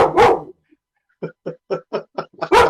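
A dog barks five times in an even, rapid series, close and moderately loud, with a person talking just before and after the barks.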